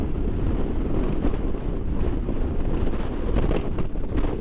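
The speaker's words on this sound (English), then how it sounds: "It is windy. It is a blustery, blustery day" Steady, loud wind buffets the microphone outdoors on a blustery spring day near marshy water, a continuous low rumble with gusty swells and no voices.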